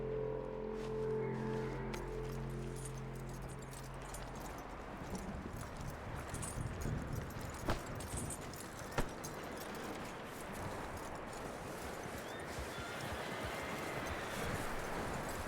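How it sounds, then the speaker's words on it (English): A horse's hooves in Red Dead Redemption 2, a run of soft clip-clop steps picking up after a brief musical passage, with a few sharper knocks standing out over a low ambient bed. "That looks like a decent horse."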